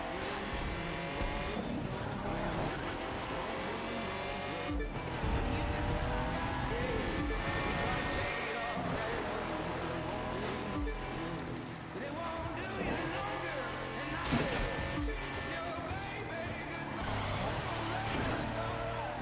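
A car slides with tires squealing in The Crew 2 racing game, engine roaring steadily throughout with repeated screeching skids, loud and continuous, while a player talks over it.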